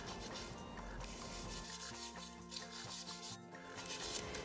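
Sandpaper rubbing back and forth over a wooden chair painted with Rust-Oleum Chalky Paint to distress it, a steady close scratchy rasp with short strokes, no talking.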